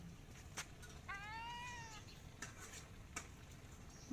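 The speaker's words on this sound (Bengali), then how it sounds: "এখন মেও ম্যাও করতেছে" A cat meows once in a clear drawn-out call, heard over a low background hum with a few faint clicks and kitchen clatter around it.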